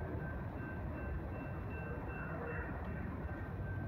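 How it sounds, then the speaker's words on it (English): A BNSF eastbound intermodal freight train passes near Fresno, a steady, dense low rumble with rolling wheel noise and a faint high squeal running throughout. "There goes that BNSF Intermodal Eastbound."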